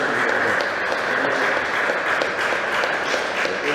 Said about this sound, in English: Give a round of applause, Dr. Kerouac.